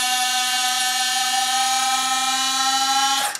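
Tarot T series retractable landing gear motor running on a bench, a steady high whining drone with strong tonal harmonics that holds evenly, then winds down abruptly at the end.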